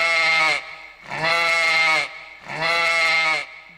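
A human voice imitates a goat, giving three long, nasal bleats with short pauses between them, loud and close.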